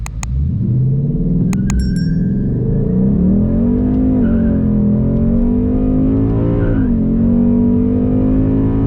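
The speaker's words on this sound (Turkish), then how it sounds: "Drag modumla alıyorum arabayı." A Ford Mustang GT fastback with a 5.0 V8, set to drag mode, launches hard on a slight uphill, its deep engine note rumbling and climbing through the revs with a brief dip at a gear change, loud and close.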